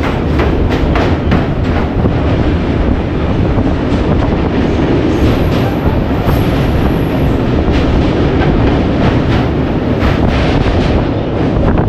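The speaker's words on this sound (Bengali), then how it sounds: "তো আমাদের ট্রেন মালব্য সেতু ক্রস করা হয়ে গেল" The Lal Kuan Express crossing the Malviya bridge makes a loud, steady rumble heard from on board, with heavy wind buffeting and faint rhythmic clicks running throughout, and no voices.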